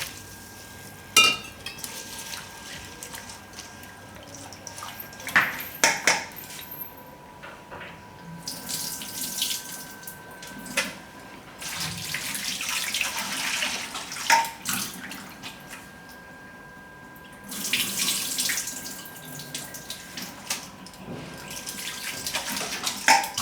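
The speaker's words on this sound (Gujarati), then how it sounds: "તો આને આપણે 2 થી 3 પાણીએ ધોઈ નાખીશું." Water runs and splashes as flattened rice (poha) is rinsed in a bowl for Gujarati methi muthiya, in several close bursts of washing and swishing separated by quieter pauses, with no talking.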